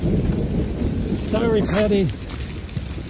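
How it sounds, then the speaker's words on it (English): Steady rain begins during a freak thunderstorm in southern California, a dense hiss close around the listener while someone briefly speaks over it. "The rain is coming right now."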